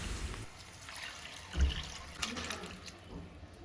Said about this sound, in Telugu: ఆ పన్నీర్ని వాటర్తో సహా దీంట్లో వేసుకోవాలి